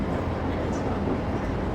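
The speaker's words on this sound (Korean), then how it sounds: "그래서 일본 지하철 소리를 제가 넣었습니다." A Japanese subway train rumbles along as a steady, dense roar of wheels and carriage noise, continuous and moderately loud with no clear pauses.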